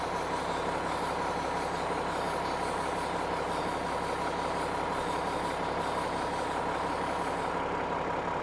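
Air hissing steadily through the tire inflation valve of a Unimog, a continuous broadband rush that stays even and unbroken for the whole stretch, with no voices.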